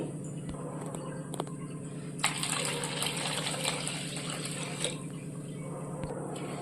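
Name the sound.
water being poured into a bowl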